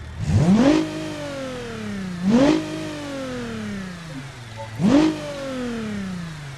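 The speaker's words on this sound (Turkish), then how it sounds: "Raptor. Sese bak." A Ford Raptor pickup engine in the driving game BeamNG.drive revs hard three times, each burst rising sharply then falling back to a rumbling idle between, loud and close with no talk.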